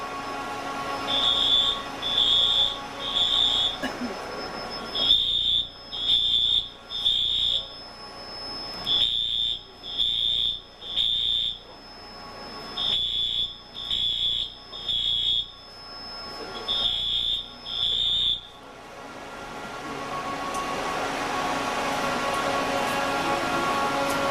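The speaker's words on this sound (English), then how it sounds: "This alarm, the red, that means that there's smoke." A server room fire suppression discharge alarm sounds loud and close, a series of sharp repeated electronic beeps in short bursts and groups with brief gaps, then it stops and leaves a steady mechanical hum and rushing air.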